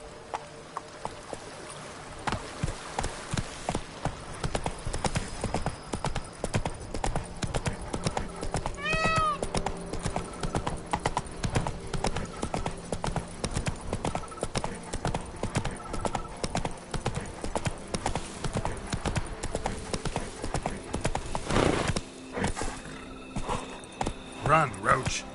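A horse gallops in The Witcher 3: Blood and Wine, with rapid, rhythmic hoofbeats drumming steadily and up close for a long stretch, with a brief whinny and game sounds mixed in.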